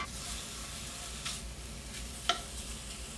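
Ground pork filling frying without oil in a hot medium pan, a soft continuous sizzle heard close up with a few brief stirring scrapes and a small clink.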